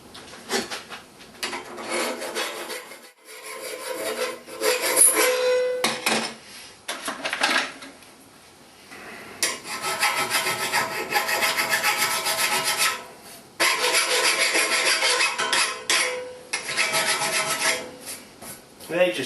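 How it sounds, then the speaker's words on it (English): Repeated rasping strokes of a round file on wood, in uneven bursts with short pauses between, close and fairly loud. "Just join the two holes up with the round file"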